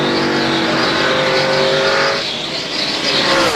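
NASCAR Winston Cup stock cars race at Phoenix International, a loud continuous engine roar with shifting pitch as the field passes close by, steady throughout with a slight dip midway.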